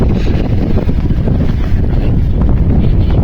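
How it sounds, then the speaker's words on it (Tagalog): Loud, buffeting wind roars across the microphone outdoors in Japan, a heavy low rumble that never lets up. "lakas ng hangin"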